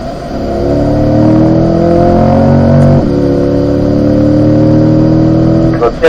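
A C8 Corvette accelerates hard on a race track, its engine note climbing loudly through the revs, briefly dipping at a gear change and rising again, close and dominant.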